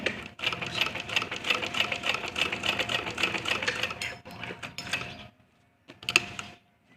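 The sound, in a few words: sewing machine stitching a kurta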